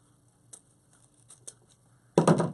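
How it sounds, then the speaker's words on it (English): A few faint snips of big scissors cutting ribbon, then a loud, crisp cut near the end, with nothing in between but quiet room tone. "So, big scissors."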